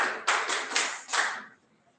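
Brief applause from a small group at a school maths competition, several quick bursts of clapping that fade out within about a second and a half.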